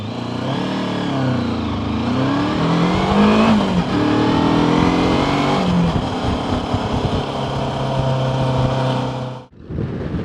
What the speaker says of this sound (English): let's do a slightly faster, more aggressive hill start pull away.